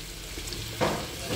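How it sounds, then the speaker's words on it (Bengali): Capsicum and tomato frying in butter in a pan give a close, continuous sizzle, with a brief burst of stirring or added sizzle partway through. "তো দেখো ক্যাপসিকামটা আর টমেটোটা ভেজে নেবো"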